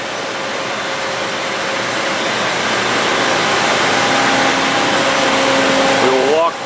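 A 1997 Spring Tool 24-inch dip spin machine cycling its basket out, a loud, steady mechanical hum and whir with rising tonal whines near the end.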